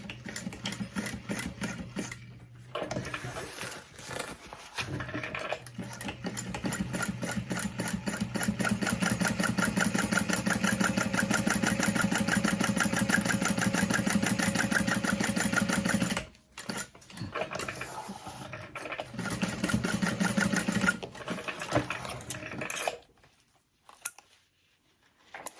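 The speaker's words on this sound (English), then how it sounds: "And then we will sew along those lines." A sewing machine stitches along marked lines on bag fabric at a long stitch length, running in a loud, steady whir for about fifteen seconds, then pausing and starting again in shorter bursts before stopping.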